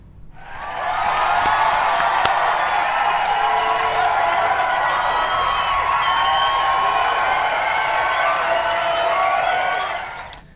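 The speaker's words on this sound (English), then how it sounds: "Do I have cheering sound?" A dense crowd cheers and shouts continuously, rising in after a second, holding steady and loud throughout with a few whoops, then tapering off at the end; no one speaks over it.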